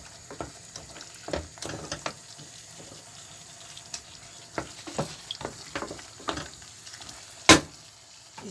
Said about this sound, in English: we will now use the paste to boil the pasta